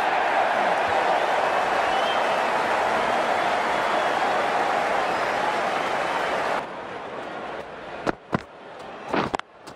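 Crowd noise from a one-day international cricket match between Australia and New Zealand at the SCG: a broad, steady roar of cheering and applause that fills the first several seconds, then drops away to quieter sound with a few sharp bursts.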